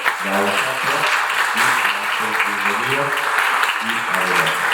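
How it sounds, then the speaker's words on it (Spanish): Audience applauding a traditional Hñähñu artisan from Querétaro at a public event, with steady, dense clapping throughout while a voice talks over it. "un fuerte aplauso"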